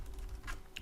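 Keys on a computer keyboard clack a few times, faint and close, in a short burst over a low background hum.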